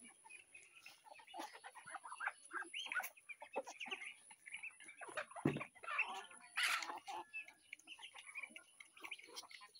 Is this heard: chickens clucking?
yes